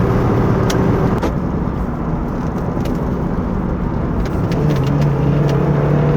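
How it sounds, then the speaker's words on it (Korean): Steady broadband wind rush and road roar fill the cabin of a 30-year-old classic car, with a Kia Credos engine, as it cruises with the window raised, the droning engine hum constant and close throughout. "풍절음이 들어오는 건 어쩔 수 없습니다."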